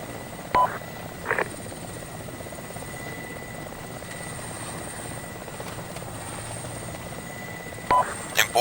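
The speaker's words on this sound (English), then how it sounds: "Important lesson, always keep your distance from the choppers." A military helicopter runs close by during training, its steady rotor drone and engine whine holding throughout, with a few brief short beeps popping up over it.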